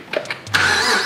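A supercharged Holden VF car engine with a stock cam starting up on a dyno: a few quick starter cranks, then the engine catches into a loud, steady idle close by.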